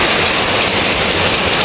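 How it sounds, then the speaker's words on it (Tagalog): Strong wind with rain blowing through a backyard garden planted with okra and sampaguita, a loud, steady, unbroken roar with no voices. "Malakas na po hangin here"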